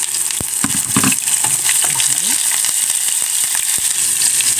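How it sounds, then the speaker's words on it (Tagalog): Onions sizzle loudly in hot oil in a pan, a dense steady crackle broken by stirring scrapes and clicks of a utensil. "Lagyan natin ng mantika. And then, ilagay natin yung ating sibuyas."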